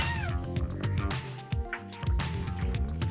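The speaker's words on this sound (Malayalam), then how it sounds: "അടുത്ത വീട്ടിൽ കിണറ്റിൽ നിന്ന് ഒരു കരച്ചിൽ കേട്ടപ്പോൾ വന്ന് നോക്കിയപ്പോൾ ഒരു പൂച്ചക്കുഞ്ഞ് ഇതിൽ വെള്ളത്തിൽ ചാടിയിട്ടുണ്ട്" A kitten trapped in the water of a well at an empty house meows over and over in a busy, echoing tangle of cries and splashing. The rapid calls run continuously and loudly throughout.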